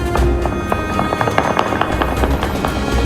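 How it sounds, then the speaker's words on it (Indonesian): Rapid bursts of distant celebratory gunfire fired into the air in Lebanon crackle and pop in quick irregular succession, echoing over a rumbling outdoor background. "Warga melepaskan tembakan bertubi-tubi ke udara untuk merayakan dimulainya gencatan senjata."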